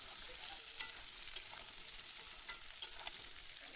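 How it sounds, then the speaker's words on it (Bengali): Potatoes fry on a gas stove with a steady, bright sizzling hiss, broken by a few sharp clicks and taps from a stirring utensil; no voices. "এই যে আলু ভাজি আমি গ্যাসে"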